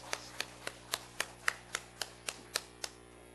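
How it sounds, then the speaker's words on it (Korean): A church congregation claps together in a steady unison rhythm, about ten evenly spaced, fairly quiet claps with no talking over them. "우리 하나님께 영광의 박수 함께 올려드리겠습니다."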